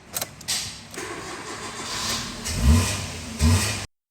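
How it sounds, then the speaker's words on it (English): A Maruti Swift petrol car starts up close by: a short whirring crank, then the engine catches and runs with a couple of throaty revs before it cuts off abruptly. "So let us start the vehicle."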